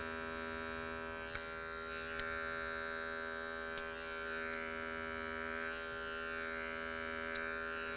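An electric hair clipper cutting fine hair during a business cut, a close, steady whining buzz that holds throughout, with brief clicks as the blades move through hair.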